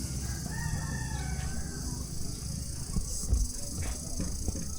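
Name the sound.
rooster crowing in village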